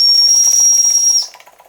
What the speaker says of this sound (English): Try the whistle.